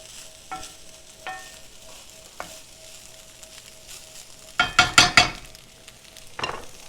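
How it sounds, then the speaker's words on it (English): Leftover brown rice stirred in a pan, with a steady sizzle underneath, a few scattered scrapes early, then a quick burst of four or five louder scraping stirs near the end. "we're going to stir all of this up a little bit here. Just mix it all up"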